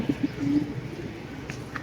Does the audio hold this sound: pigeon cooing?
yes